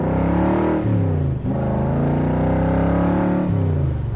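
A 1965 Shelby Cobra's engine revs at quarter throttle, a loud, close, rumbling roar that rises and dips in steady pulses without any talk.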